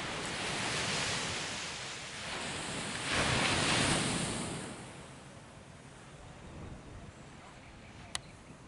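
Surf rolls onto a beach in Goa, a broad steady wash of breaking waves that swells to a louder crash midway and then eases back, with wind in the microphone and no talking.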